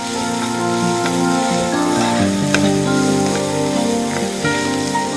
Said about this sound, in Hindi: अच्छी तरह प्याज फ्राई कर लें।